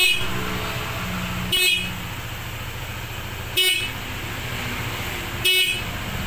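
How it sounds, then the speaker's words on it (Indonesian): A car horn sounds three short honks, evenly spaced about two seconds apart, over a steady idling engine hum. "Coba klaksonnya coba dibunyiin."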